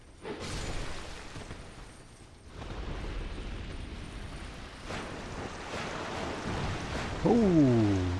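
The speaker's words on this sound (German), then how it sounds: "Explosion, ne?" An explosion in the video game Dark Souls II: several heavy, broadband rumbling blasts follow one another over a roaring, windy game ambience, with a brief rising whine near the end.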